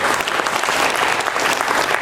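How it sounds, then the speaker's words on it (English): Audience applause at an international farmers summit plenary session, a full, continuous burst of many hands clapping, loud and even throughout. "Can we give them a big round of applause?"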